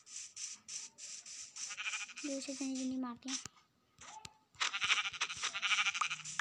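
A goat bleats once, briefly and fairly close, amid outdoor rustling while someone talks over much of it.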